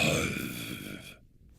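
A sleepy, groaning voice clip from a fighter character in the video game Super Smash Bros. Ultimate, a low guttural yawn-like moan that trails off into silence after about a second.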